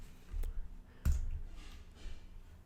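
Mouse clicks while working in After Effects, two distinct close clicks, the second sharper, over a faint low background, no talking.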